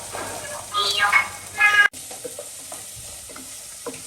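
Chopped onions frying in coconut oil while prawn fry is being cooked, giving a steady sizzle with brief louder bursts early on that drop off abruptly near two seconds, then a quieter crackle with faint clicks.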